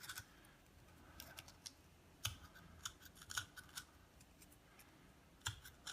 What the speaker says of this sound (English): I just take very carefully an X-Acto blade, and I just kind of skim it off